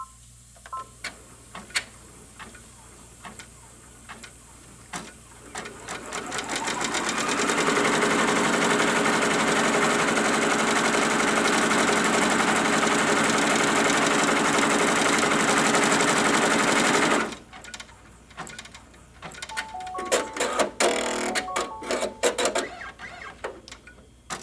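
An embroidery-style quilting machine outlines a block in the hoop, clicking and ticking at first, then running a loud, steady mechanical stitching drone for about ten seconds before stopping and returning to scattered clicks and beeps.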